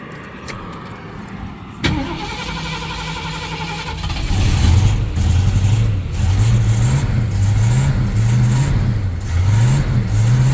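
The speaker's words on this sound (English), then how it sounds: "Car fires up, settles into a nice idle, runs really well." A 1970 Ford Mustang Mach 1 with a 351 V8 cranks and fires up near the mic around two seconds in, then runs with repeated throttle blips, the loud rumbling revs rising and falling in a steady rhythm.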